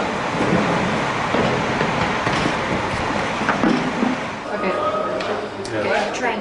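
A train rumbles past with a steady low roar and rattling, while people talk nearby.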